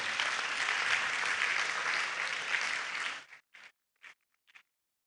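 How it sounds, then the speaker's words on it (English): At a university convocation ceremony, an audience applauds the Vice Chancellor with a full, steady round of clapping that stops abruptly after about three seconds, leaving only a few scattered late claps. "Give applause for the Vice Chancellor."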